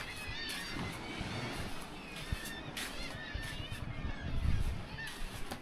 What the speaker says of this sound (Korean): 저게 새들이 엄청 많이 살고 있어요